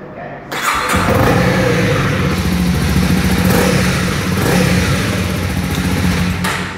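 A 2024 Honda CB300R motorcycle engine starts and revs inside a showroom, its loud, steady engine note holding for several seconds and echoing off the indoor walls, with no talking over it.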